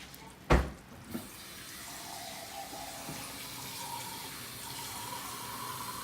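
Tap water runs steadily into a cup in a home kitchen, a soft continuous trickle that starts after a couple of brief knocks and continues evenly to the end.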